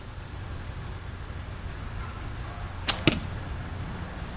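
An arrow loosed from a handmade Mirkwood bow at full draw gives two sharp, close snaps in quick succession near the end, standing out over steady low outdoor rumble and hiss.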